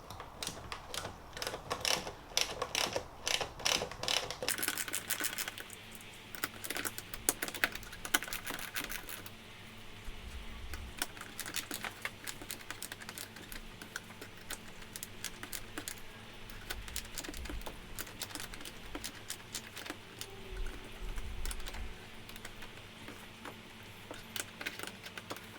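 A ratchet with a 10 mm socket removing window trim bolts on a 2001 BMW E46 M3, making quick, close runs of light clicking that start and stop in short bursts, fairly quiet with no talking.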